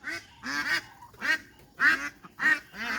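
Ducks honk and quack loudly and nearby among other farm fowl, in a run of about six raucous calls spaced through the moment.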